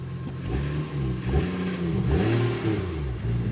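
A BMW E93 335i's engine is revved by blipping the throttle, rising and falling in several quick swells over a steady idle, recorded up close and loud with no talking.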